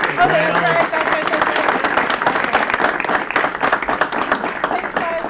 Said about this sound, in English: ask for a round of applause for both Jack and for Susan and for all of the other adults that are leading these programs